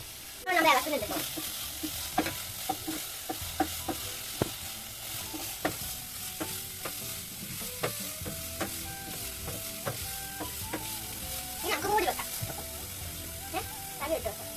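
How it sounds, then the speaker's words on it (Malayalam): Green beans thoran frying in a pan and being stirred, with repeated scraping clinks of the spoon over a steady sizzle, while a voice talks at times. "ഇളക്കുന്നുണ്ട് കേട്ടോ."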